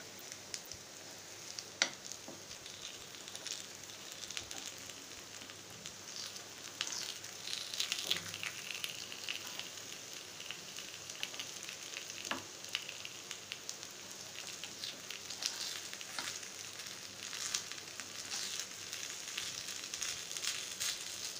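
Rava paniyaram cooking in a covered pan over a low flame, giving a faint, steady sizzle with soft crackling that runs continuously for the whole stretch, no voices.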